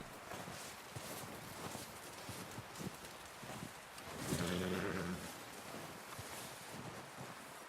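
A horse in Red Dead Redemption 2 stands amid steady wind, giving a soft snort or whinny and a few hoof sounds, with a brief louder swell midway.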